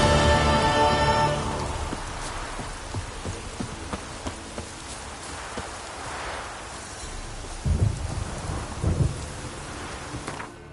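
Video game (The Witcher 3: Wild Hunt) steady heavy rain with rolling thunder, a loud crack near the start and two deep rumbles later, no voices.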